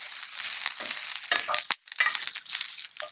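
Shredded Brussels sprouts frying in a pan as they are stirred: a close crackling sizzle with rustling, crunchy scrapes and a few light clinks of a utensil.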